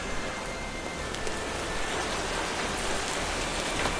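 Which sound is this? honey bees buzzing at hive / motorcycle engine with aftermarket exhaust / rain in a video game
rain in a video game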